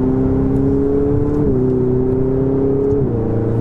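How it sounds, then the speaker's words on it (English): Ferrari 488 GTB turbo engine under acceleration, a strong droning tone that climbs then drops twice as it upshifts, with a faint turbo whistle above; loud, close and continuous. "you also get the little turbo whistle. It sounds so good, and just casually upshifting"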